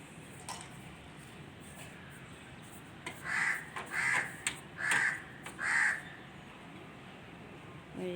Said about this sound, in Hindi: और ये देखिए कौवा सबको कह रहा उठ जाओ अब सुबह के लिए